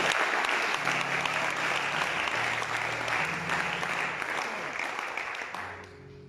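A church congregation at a French-language service applauds in a dense, sustained burst, with steady sustained tones underneath. The clapping fades away at the end.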